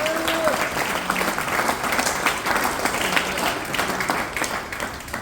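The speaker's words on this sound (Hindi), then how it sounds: "उनके लिए जोरदार ताली।" A crowd applauds continuously, dense clapping holding steady throughout with faint voices mixed in.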